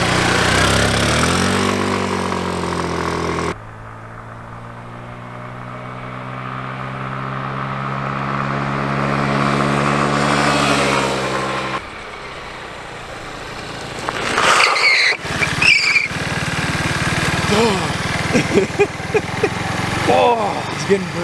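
A GY6 150cc scooter engine cranks, settles into a steady idle, then revs up in several sharp bursts, loud and close, with a voice speaking near the start.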